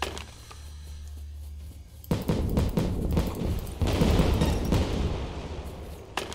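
Gunshots fired in the Lost City Of Vampires video game, a dense run of sharp repeated reports that starts abruptly and keeps up loudly and close, with no talking over it.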